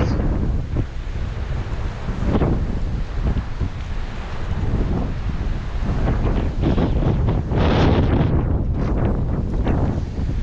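Strong coastal wind roars steadily into the microphone with heavy buffeting and gusts, alongside surf washing in the background at a fishing spot, loud and continuous throughout.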